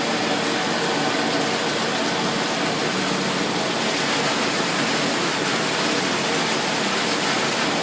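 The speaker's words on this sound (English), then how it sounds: "we're backwashing this filter here right now" A pool pump runs while its filter is backwashed, giving a steady, loud rush of water and motor noise throughout with no speech.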